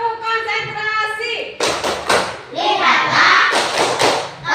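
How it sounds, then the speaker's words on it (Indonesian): After a brief adult voice, a group of schoolchildren performs the 'tepuk konsentrasi' clapping chant in class, with rhythmic bursts of unison hand claps mixed with loud, close chanting voices. "Oke, tepuk konsentrasi."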